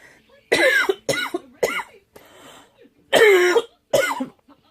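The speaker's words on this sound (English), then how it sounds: "I got a little coughing fit going on." A person coughs repeatedly in a harsh, hacking fit, several bursts in quick succession with brief pauses between.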